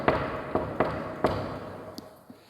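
Several sharp knocks on a thick, solid camphor wood door, four firm raps spaced unevenly over about a second, then two softer taps, close and clear in a quiet room.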